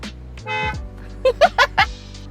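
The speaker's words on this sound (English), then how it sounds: "in case you're curious about what the honk sounds like." A VinFast VF 8 car horn gives a short honk, then four quick toots follow in a rapid series, loud and close.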